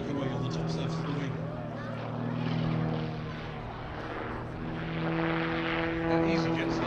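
An EasyJet airliner flies past at the Little Gransden Airshow 2022, a steady distant engine roar that swells and eases over several seconds, with people talking over it.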